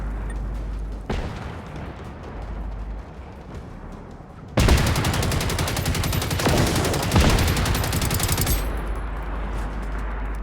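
Heavy automatic gunfire from the video game Generation Zero, steady background shooting that breaks into a loud, dense burst of rapid fire for several seconds before easing back.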